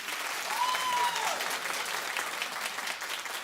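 A TV talk show studio audience breaks into steady applause, a dense wash of clapping heard from a moderate distance, holding evenly for several seconds with a faint voice briefly above it.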